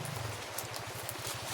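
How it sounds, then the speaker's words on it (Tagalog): Heavy rain in a video game, a faint, dense patter with a rapid, regular pulsing texture in the low end, continuous and without talk. "Lakas ng ulan, tol."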